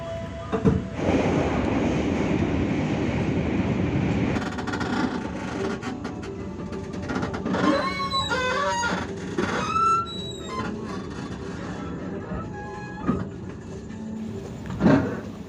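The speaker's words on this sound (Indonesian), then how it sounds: "Matarmaja kembali diberangkatkan dari Stasiun Cirebon Pujakan jam 21:18." The Matarmaja economy-class train pulls out of Cirebon Prujakan station at night, with a loud rumble, clattering wheels and squealing metal around the middle. No one speaks.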